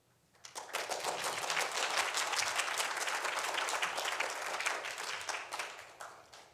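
Audience applause for the keynote speaker at a worksite immigration compliance symposium swells after a brief quiet, then holds as a dense, steady wash of many hands before tapering slightly at the end.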